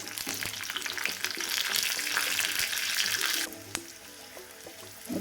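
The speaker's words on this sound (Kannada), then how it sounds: "ಒಂದು ಸೊಪ್ಪು ಬೆಳ್ಳುಳ್ಳಿ ಮತ್ತು ಜೀರಿಗೆ ಸಾಸಿವೆ ಹಾಕ್ಕೊಂಡು ಒಗ್ಗರಣೆ ಮಾಡ್ಕೊತಾ ಇದ್ದೀನಿ ಆಯಿಲಲ್ಲಿ ಬಿಸಿ ಮಾಡಿಕೊಂಡೆ" Garlic, cumin, mustard seeds and curry leaves sizzle loudly in hot oil as a tempering for a bitter gourd bassaru, with a bright crackling hiss that drops suddenly partway through and is followed by a few clinks.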